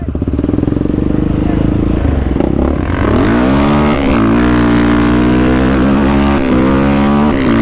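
A Polaris Outlaw 525 IRS ATV engine runs loud and close, rough idle rising into revs with shifting pitch, a strong continuous drone that dominates the whole stretch.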